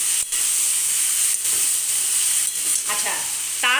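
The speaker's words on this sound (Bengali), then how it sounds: "এবারে একসাথে টমেটো, আলু, পেঁয়াজ, ঝিঙে একসাথে আমি ভেজে নেব।" Tomato, potato, onion and ridge gourd fry together in a pan, giving a loud, steady sizzle and hiss with faint stirring scrapes near the end.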